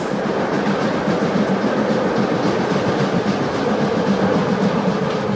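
A DB class 038 steam locomotive, a Prussian P8, waits with an express train at Freudenstadt station, giving a steady, dense rumble and hiss throughout with no pause or talk.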